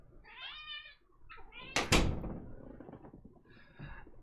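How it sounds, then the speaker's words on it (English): Cats yowl and meow loudly indoors in several drawn-out, wavering cries, broken by a sharp thump or knock partway through. "cats yelling"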